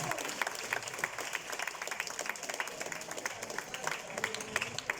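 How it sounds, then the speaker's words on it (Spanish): A conference audience applauds a doctor after his talk on education and industry, a dense, steady wash of many hands clapping that carries on evenly for several seconds without fading. "Les pido un fuerte aplauso para el doctor Roberto Sosa Azul."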